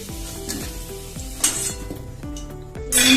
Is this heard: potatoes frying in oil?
yes